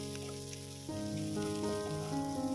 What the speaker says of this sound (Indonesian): kita aduk-aduk, kita masak, kita tumis sampai buncis dan kol ungunya ini sedikit layu